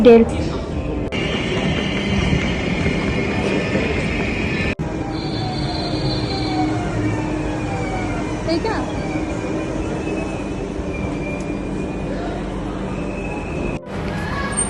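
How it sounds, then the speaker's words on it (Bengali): Steady rumble of a moving train from inside a carriage near Rotterdam Central, Netherlands, with wheel squeals and rail noise throughout and a couple of sharp jolts. "আমরা এখন ট্রেনে করে রটারডাম"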